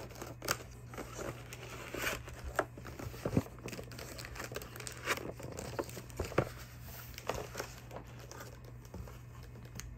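A damaged cardboard box for a first-model Dreamcast keyboard is handled up close, giving scattered crinkles, taps and rustling scrapes over a steady low hum, with no talking.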